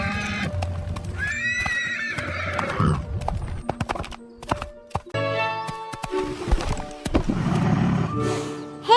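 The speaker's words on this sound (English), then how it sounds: "Horse is coming." A horse on a farm whinnies loudly and repeatedly while its hooves clop in uneven steps on the ground nearby, with scattered knocks and rustling around it.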